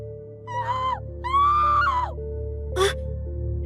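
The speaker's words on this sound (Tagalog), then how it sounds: "bigla kaming nakarinig ng malakas na sigaw mula sa kusina." A loud scream from a kitchen, two long rising-and-falling wails with a brief sharp cry after, standing out clearly over a steady background hum.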